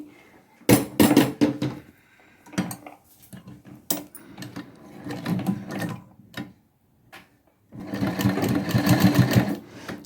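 A sewing machine runs in repeated bursts of rapid, close stitching while sewing invisible piping onto a curved neckline, with short pauses and light fabric handling between runs.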